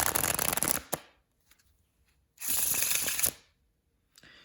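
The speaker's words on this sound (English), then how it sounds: "this is how the shuffle is going to look from your angle" Playing cards are riffle shuffled twice, each a dense crisp flutter lasting about a second, close up, with a quiet pause and a few taps between.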